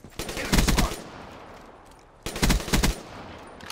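In Black Ops 3, a Galil rifle fires two sharp, loud bursts of rapid automatic shots about two seconds apart.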